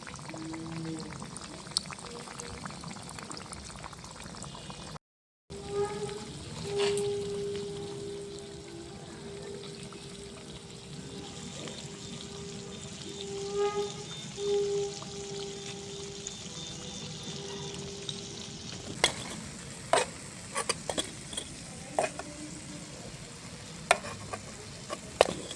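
Sweet potato fritters (ranga alur fuluri) fry in hot oil in a small mini-kitchen pan, a soft steady bubbling hiss with occasional light clicks and scrapes, quieter and sparser toward the end.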